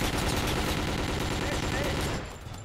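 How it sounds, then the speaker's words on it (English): Sustained rapid automatic gunfire from a machine gun in the Call of Duty video game, loud and dense for about two seconds before dropping off, with game sounds and possible voice mixed beneath. "I get a machine gun, not a shotgun."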